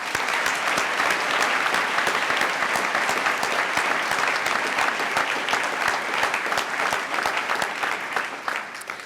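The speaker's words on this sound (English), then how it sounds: "maybe we'll all reflect this with a round of applause to the students" An audience at a university white coat ceremony gives a sustained round of applause for the students, dense and fairly close, holding steady for about nine seconds before starting to thin out.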